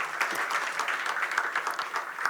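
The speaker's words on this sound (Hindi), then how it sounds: "एक बार ज़ोरदार तालियाँ।" Steady applause from an audience at a music event honoring a national leader, a dense wash of clapping that holds evenly throughout without voices on top.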